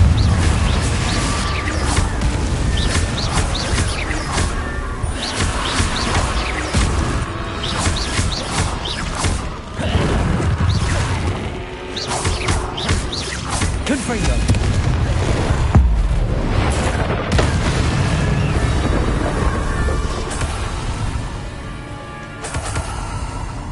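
Confringo blasting-spell explosions in Hogwarts Legacy burst one after another, loud and heavy, as a dense string of booms and crackling impacts over about twenty seconds with game effects layered beneath.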